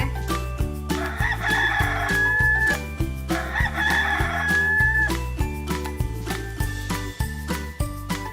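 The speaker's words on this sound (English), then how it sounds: "It was the rooster!" A rooster crows twice in succession over a steady backing of bouncy children's music, each crow rising and held before trailing off, loud and close.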